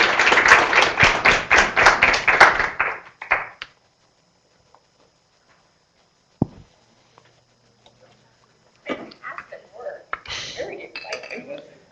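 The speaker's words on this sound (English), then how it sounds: "if you guys could join me in giving Derrick a round of applause" Audience applause for a presenter at a talk on occupational polycyclic aromatic hydrocarbon exposure: dense clapping fills roughly the first three seconds, then stops abruptly, leaving near silence with a few soft knocks before faint movement and voices return.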